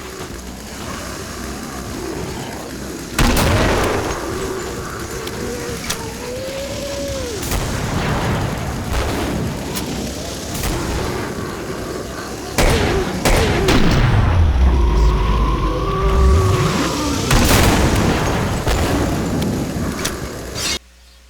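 Gunfire echoes through the Killing Floor video game on solo Hell on Earth mode: loud sharp shots and booming blasts ring out at irregular intervals over a busy, rumbling game soundscape with swooping tonal effects.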